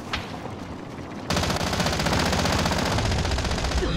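Sustained automatic gunfire in Call of Duty Warzone erupts suddenly and loud after a quieter opening with a faint single shot, then continues as a dense, rapid, unbroken stream of shots with no talking.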